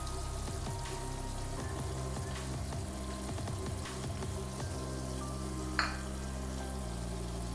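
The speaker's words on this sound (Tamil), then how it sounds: "இப்போ இந்த முட்டை வேகிற அளவுக்கு நம்ம கிளறி விட்டுற வேண்டியதான்." Three eggs being stirred and fried with cauliflower in a pan, giving a steady, moderately loud sizzle with occasional spatter and scraping over a sustained tonal background.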